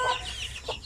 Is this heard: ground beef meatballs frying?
no